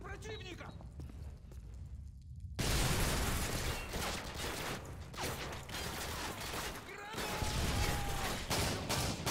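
Rapid gunfire from Modern Warfare 2, dense bursts of crackling shots with mechanical clatter, loud and close after a quieter opening, running continuously under bits of talk.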